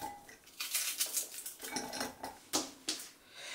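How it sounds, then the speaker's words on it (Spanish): A knife chops an onion finely on a cutting board in a home kitchen, giving quiet, irregular clicks and taps close by, with no talking. "Yo pico la cebolla aquí porque la quiero muy finita"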